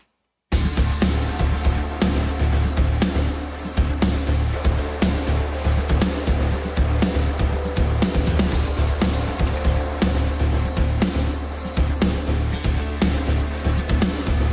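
Dense, distorted metal guitar mixed through the Black Salt Audio Telos Guitar plugin, playing a tight chugging riff with heavy low end, loud and continuous without any talking.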